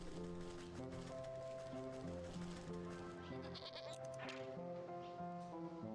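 Sheep bleating in the video game Wytchwood, with repeated wavering tonal bleats layered over music throughout.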